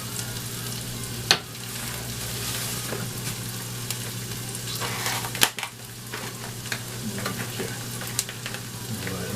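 Ground meat for tacos sizzles steadily in a hot pan on a home stove, a loud continuous frying hiss with a couple of sharp clicks as it is stirred.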